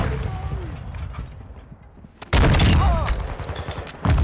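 Shotgun blasts in an online shooter game, one heavy boom landing midway and another at the end, with bursts of talk in between.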